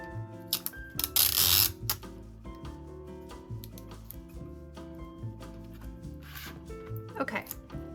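A strip of tape rips off a roll in a short, sharp burst and is pressed onto a wooden weaving board set up for sprang warping, with a voice talking throughout and soft handling clicks around it.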